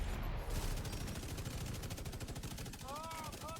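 Rapid automatic gunfire empties a full magazine into a boss in the video game The Division 2, a fast continuous rattle of shots close and loud, with faint game sounds underneath.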